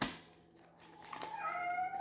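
A house cat gives a single close meow near the end, a rising, tonal cry following a quiet stretch of room sound.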